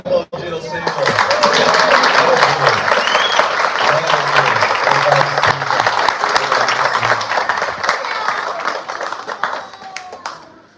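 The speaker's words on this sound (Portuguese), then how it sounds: "Vamos poder aplaudir ao Senhor." Congregation at a church water-baptism service applauding in a sustained burst of dense clapping that starts abruptly, holds steady for several seconds and tapers off. A voice speaks briefly at the start and low musical tones sound underneath.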